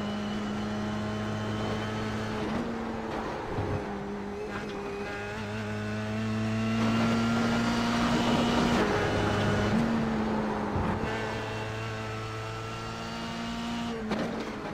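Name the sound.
Formula 3 race car engine in racing sim video game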